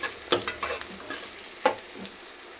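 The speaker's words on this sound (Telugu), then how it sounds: "ఉల్లిపాయలు వేగిపోయినాయి." Onions frying in a pan while an onion and bitter gourd fry is being cooked, with a steady close sizzle broken by a few sharp clinks and scrapes of stirring.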